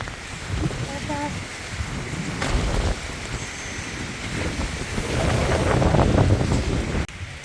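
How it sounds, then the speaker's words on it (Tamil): Strong wind buffets the microphone outdoors on a rainy day in New Zealand, a loud, steady broadband roar that swells near the end and cuts off abruptly, with a voice faintly audible. "காற்று ரொம்ப அடிக்குதே"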